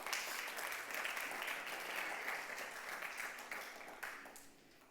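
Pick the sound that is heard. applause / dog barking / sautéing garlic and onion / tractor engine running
applause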